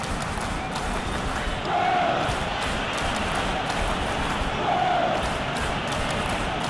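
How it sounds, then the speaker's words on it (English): Stadium crowd at a Brighton vs Manchester United Premier League football match, a dense continuous roar of many voices with a couple of brief swells of groaning disapproval. "the crowd aren't happy"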